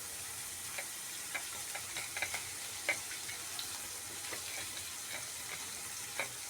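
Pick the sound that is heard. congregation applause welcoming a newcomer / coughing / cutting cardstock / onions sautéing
onions sautéing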